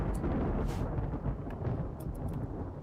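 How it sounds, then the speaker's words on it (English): Rainy thunderstorm in the video game RimWorld: a continuous low rumbling roar of rain and thunder with a few brief crackles, steady and loud, no voices. "Rainy thunderstorm."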